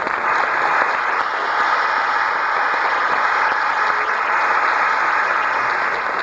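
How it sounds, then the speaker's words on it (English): Audience applause for the costume maker after an English stage play production of A Murder is Announced, a dense steady wash of clapping from a full hall lasting the whole stretch at even loudness. "A big hand of applause for her"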